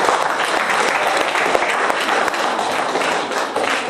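An audience at a children's competition prize-giving applauds steadily, dense clapping from a crowd sustained and fairly loud throughout.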